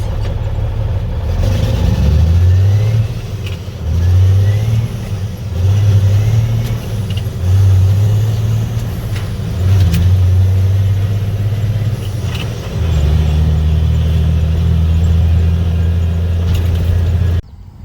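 A Cummins N14 diesel truck engine idles after an injector job, a loud, close, low rumbling drone that rises and falls in a regular pulsing rhythm, then settles into a steadier tone, without talk.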